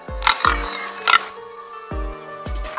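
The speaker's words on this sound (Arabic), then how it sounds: "خنزير" A pig grunts in a series of short, low, snorting bursts spaced apart and fairly loud, with brief higher squeal-like sounds between them.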